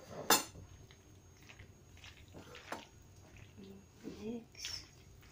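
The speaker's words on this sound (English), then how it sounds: "we'll mix it, guys." Creamy fruity macaroni salad being stirred in a large bowl: soft squishy folding with faint intermittent clinks of a utensil against the bowl, quiet and close, with a sharper scrape near the start.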